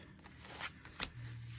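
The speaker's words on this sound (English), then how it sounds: "So let's pick a card first. This is hard to these are hard to shuffle." A deck of cards being shuffled by hand, a few soft riffling bursts and flicks spaced irregularly, faint and close, with a low hum underneath.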